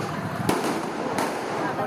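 Firecrackers set off during a street brawl between residents in the Manggarai tunnel, Jakarta, two sharp distant bangs standing out against a roar of crowd noise and shouting.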